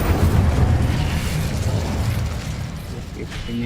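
An Incendio fire spell cast in the video game Hogwarts Legacy, a loud, continuous roaring whoosh of flame with dense rumbling body that fades slightly toward the end.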